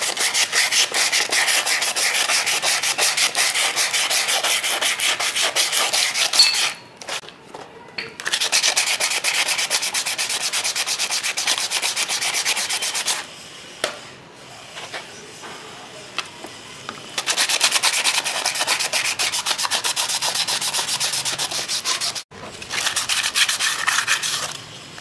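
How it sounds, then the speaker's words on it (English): Sandpaper rubbing on the drum brake shoes of a Honda Activa scooter, a steady close-up scratchy scraping in long continuous strokes with a few short pauses between them. "so we have to rub this with sandpaper"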